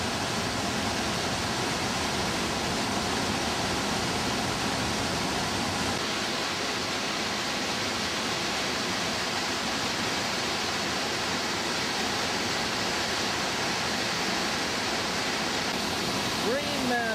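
Constant roaring wash of Kakabeka Falls, a waterfall near Thunder Bay, Ontario, steady and full for the whole span, with faint voices occasionally beneath the rush.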